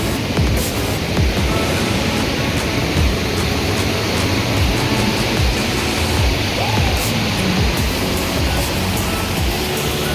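A waterfall in Munich rushes in a steady, loud broadband roar close by, unbroken for the whole stretch, with no voices over it.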